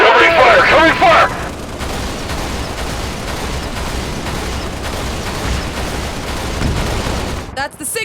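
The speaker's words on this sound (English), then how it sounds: "Covering fire! Covering fire!" Dense, continuous gunfire from the Halo video game rattles loudly as covering fire, with a shouted voice at the start and more yelling right at the end.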